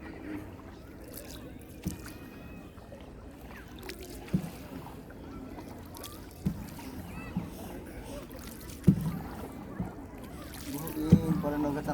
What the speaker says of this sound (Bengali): বহুদিন পরে নৌকা চালানোর সুযোগ পাইলাম